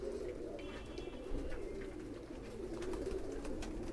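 A young black-faced Sialkoti pigeon, held in the hand, gives soft, low continuous cooing that stays faint and steady throughout.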